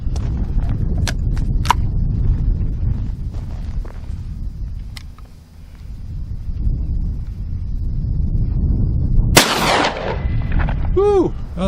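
A single loud shotgun blast at outdoor target shooting, from a shotgun with an automatic ejector and no front bead, cracks out once near the end over steady wind rumble, with a faint ringing tail after it.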